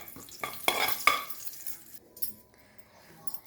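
Turmeric is stirred into buttermilk curry (majjiga charu) in a pan: a few close clinks and scrapes of a spoon against metal, then quieter stirring that fades toward the end.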